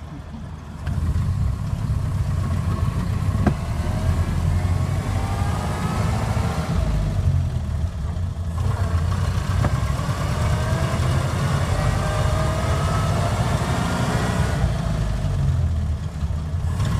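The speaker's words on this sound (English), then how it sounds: "It's a very good running engine." A 1928 Ford Model A Tudor Sedan engine idles steadily up close, a smooth, continuous low rumble that holds an even level from start to finish.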